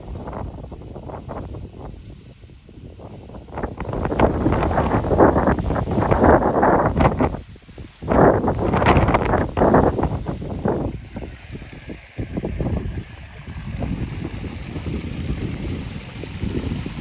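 Strong, gusty wind buffets the microphone on a blustery day at Kinder Scout in the Peak District, roaring in loud surges that drop briefly and swell again, with no voices.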